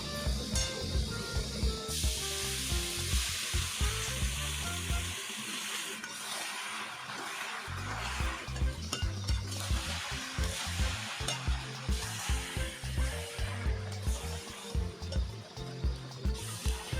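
Soaked puffed rice is stirred in a pan with turmeric, a steady hissing sizzle running underneath repeated rhythmic scrapes of the spoon, close and continuous, with no voices.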